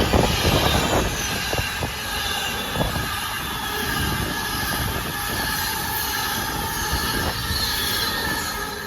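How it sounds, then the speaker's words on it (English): An Avanti West Coast passenger service from Preston to London Euston passes through Tipton station, a steady loud roar of wheels and rails with high squealing and scattered clanks from the carriages, and no talk over it. "Passing through now is an Avanti West Coast service from Preston to London Euston."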